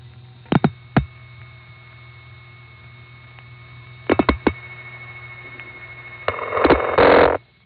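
1974 telephone network multi-frequency tones from White Plains to Poughkeepsie in the 914 area: short bursts of tone pulses in clusters over a steady line hum, ending with a longer loud tone block.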